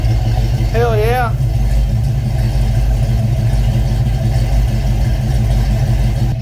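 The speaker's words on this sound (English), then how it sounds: "Car sounds awesome." A 1993 Ford Mustang Cobra, restarted after sitting unrun for 26 years, idles loudly up close with a deep, steady rumble; a short warbling tone cuts in briefly near the start.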